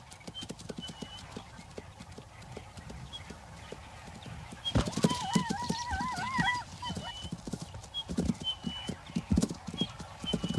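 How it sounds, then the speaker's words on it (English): A zebra stallion runs across open grassland with rapid, rhythmic hoofbeats, steady and fairly close. Whinnying calls rise partway through, and the pounding continues to the end. "The stallion runs in to retrieve his daughter."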